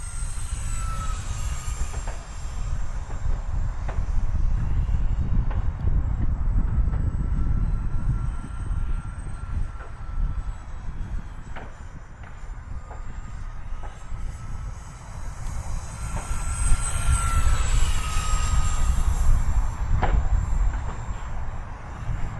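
An E-flite SR-71 Blackbird twin 40mm EDF RC jet flies past with a steady, continuous ducted-fan whine and rushing roar, rising slightly as it passes nearer, with no talking.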